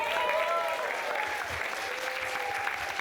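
Applause from a comedy festival crowd for a stand-up performer, brisk, full clapping from many people sustained throughout, with a faint whistle-like tone riding over it.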